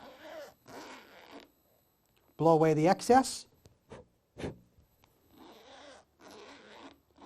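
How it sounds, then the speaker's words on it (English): Zipper on clothing run along its track after lubricating, a short loud rasping burst between quiet moments of talk. "we're going to go ahead and run the zipper across"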